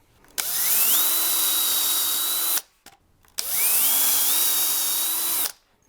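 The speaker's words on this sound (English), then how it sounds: "So we're going to drill a pilot hole on either side here" A power drill with a 5/32 bit bores pilot holes in a wooden pocket door frame board: two sustained whining runs of about two seconds each, the motor pitch rising as it spins up, with a brief pause between.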